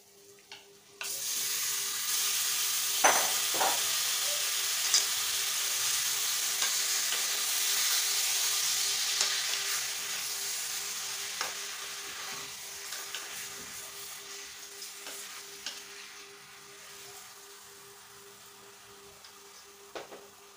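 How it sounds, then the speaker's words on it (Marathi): Marinated mutton sautéing in a pan, a steady loud sizzle and hiss with occasional stirring scrapes and clinks, tapering slightly toward the end with no voices. "मटण छान व्यवस्थित परतून घ्यायचे।"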